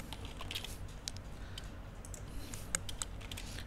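Keys clatter steadily on a computer keyboard during CCNA VLAN configuration work, quick soft taps with a few sharper clicks over low background hum.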